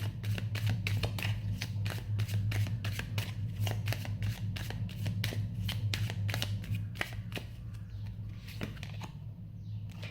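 Tarot cards are shuffled and drawn by hand in a rapid series of crisp, close riffling snaps and slaps, with no speech.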